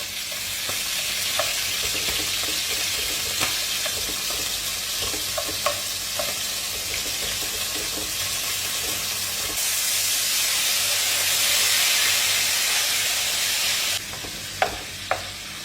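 Ingredients melting and sizzling in a pan over low flame for an octopus tomato sauce, a loud steady frying hiss that swells briefly, dotted with small pops and utensil taps.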